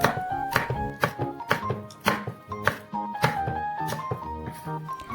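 Large red and green chillies being sliced diagonally on a cutting board, heard as a rapid series of crisp knife chops with a steady rhythm, over a background of music.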